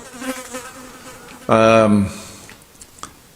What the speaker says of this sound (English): You can sit here and watch the show, but please stop buzzing.